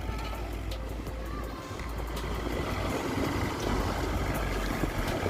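A Mahindra B-275 tractor engine runs continuously nearby with a steady, rough rumble and broadband noise, without a clear change in pace.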